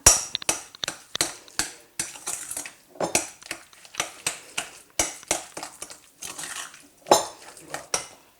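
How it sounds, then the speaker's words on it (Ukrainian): A series of sharp clinks and knocks as a utensil mixes cheese doughnut dough with egg in a bowl, repeating in an uneven rhythm with brief pauses, close by. "І тепер все це добре змішую."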